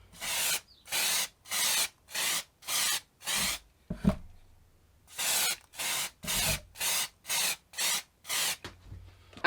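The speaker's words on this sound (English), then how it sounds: "now I'm going to spray it with this cold galvanizing" Rust-Oleum cold galvanizing aerosol is sprayed onto glass in a series of evenly spaced bursts of loud, close hiss, about a dozen, with a short clatter and pause between the two groups.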